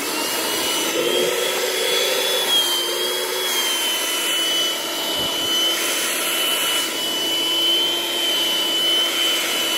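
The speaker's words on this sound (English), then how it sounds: "Now, I've used this vacuum cleaner, handheld vacuum cleaner," Small vacuum cleaner running steadily with a high-pitched motor whine over a continuous airy rush, loud and close.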